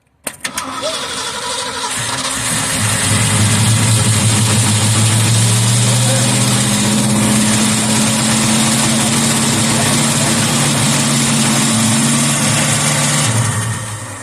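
A Ford Mustang with a carbureted engine cranks briefly, then catches and runs at a rough, steady idle, loud and close, before the revs drop off near the end.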